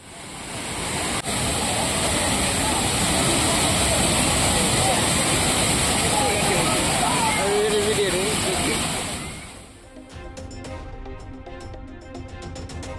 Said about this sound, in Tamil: குமரியில் பெய்த மழையால் திருப்பரப்பு அருவியில் ஆர்ப்பரித்து கொட்டும் தண்ணீர்.